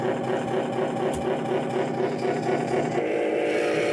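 An RC semi truck's small electric motor strains as it pulls added weight, giving a steady, loud, buzzy whir with an even mechanical tone that holds throughout.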